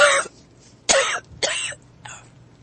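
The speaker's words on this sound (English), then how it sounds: "Uh-oh. I'm coughing." A woman coughs three separate times, sharp close bursts with short pauses between, the last one softer, with no talk over them.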